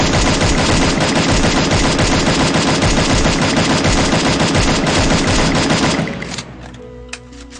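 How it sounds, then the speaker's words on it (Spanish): A yellow M4A1 rifle in a video game fires its full magazine in one continuous, loud automatic burst for about six seconds, then stops, leaving a faint tail of game ambience. "vamos a apuntar a la cabeza y gastarnos el cargador ahí"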